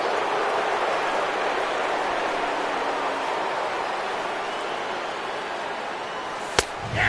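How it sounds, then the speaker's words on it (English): Steady rain falls in a PS4 baseball video game, a continuous broadband hiss running evenly throughout, with a single sharp tick near the end. "Rain continues to fall."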